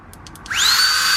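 A FlexTailGear Max Pump 2 Pro electric air pump starts up after a few light clicks and settles into a steady, loud, high-pitched motor whine, close by with no talking.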